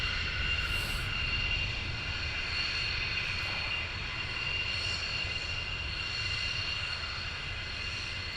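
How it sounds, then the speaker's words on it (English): Military jets taxiing at RAF Lakenheath during a morning launch, a steady, constant engine roar with a high turbine whine held throughout at moderate distance. "So these are the C's that are now taxiing towards us"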